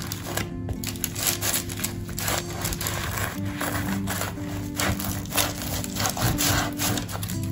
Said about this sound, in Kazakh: Бәлішті кесіп көрейік.